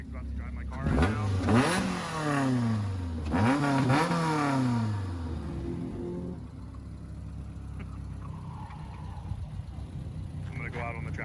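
A 400+ whp Mazda Miata on a race track revs hard through two sharp accelerating pulls with gear-change drops, then fades into a distant drone as it moves away.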